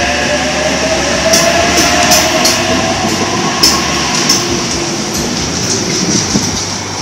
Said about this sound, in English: We got H18 as the front four cars of this Bondi Junction via Wallai Creek service, which is now departing platform number 1.